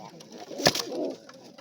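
Pigeons cooing in a close, quiet space, with one brief, louder burst of throaty coos standing out mid-way over faint background calls.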